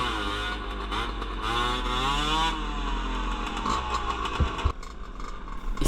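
A trail dirt bike's engine revs and drones loud and close while riding through jungle, pitch rising and falling with throttle changes and some rattling bumps toward the end.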